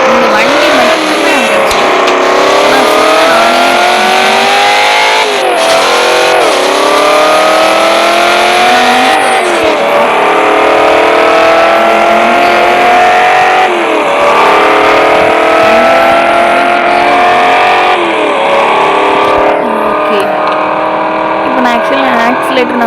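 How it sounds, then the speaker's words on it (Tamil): A European luxury car drifting, its engine revving in steady repeating rises and falls with tyre noise, loud and close throughout, with a voice talking over it. "பார்த்தீங்களா ட்ரிஃப்ட் அடிச்சுட்டே வரேன்"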